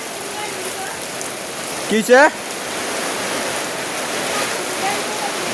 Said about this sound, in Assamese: এতিয়াও বতাহ দি আছে এতিয়াও বৰষুণ দি আছে